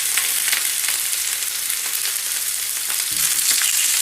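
Chicken pieces searing in a hot pan with vegetables, a loud steady sizzle and crackle close up throughout, alone with no talking.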